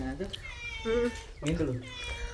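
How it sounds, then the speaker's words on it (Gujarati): A cat meows several times nearby, drawn-out tonal cries with rising and falling pitch, over a steady background hum. "આપણે મીંદડીનો અવાજ આવ્યો હતો"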